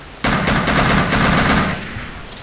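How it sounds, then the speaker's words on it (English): Rapid automatic gunfire bursts into the air in the Battlefield Somalia game mod, loud and sustained for over a second before cutting off, with a fading echo and no talk. "So I will fire some bullets into the air"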